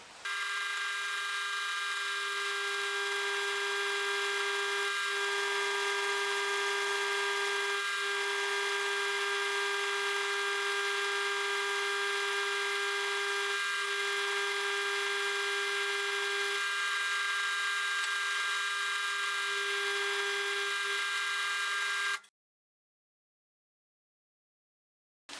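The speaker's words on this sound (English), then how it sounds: "We can now safely drill through each one of those." A steady, high-pitched whine of a power drill boring through six stacked steel pieces at once, running continuously for about twenty seconds, close and loud, then cutting off abruptly into silence.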